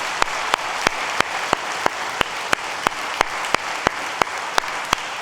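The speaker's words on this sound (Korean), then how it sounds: "우리 박수로 한번 격려하겠습니다" A church congregation applauds young adults during a service. A steady wash of clapping is punctuated by sharp, evenly spaced louder claps about three times a second, with no talking.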